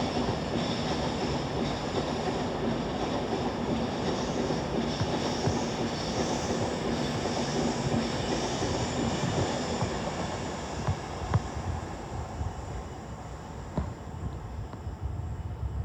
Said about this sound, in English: 1323 Avanti West Coast service to Birmingham New Street